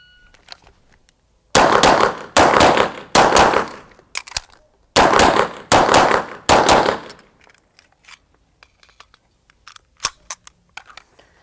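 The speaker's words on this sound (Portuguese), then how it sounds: "foram efetuados dois disparos" Bursts of sharp pistol shots at a shooting range in closely spaced groups, loud and near, followed by scattered faint clicks and a single later shot.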